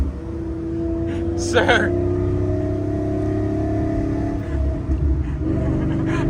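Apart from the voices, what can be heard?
procharged Ford Mustang Cobra engine rumbling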